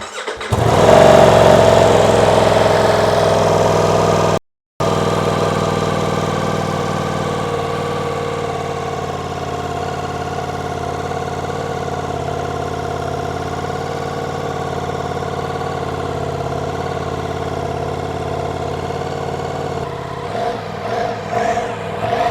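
A Ducati Diavel motorcycle under repair for fuel issues starts with a loud engine catch, cuts out briefly, then settles into a long, steady, close idle with a slight rise near the end.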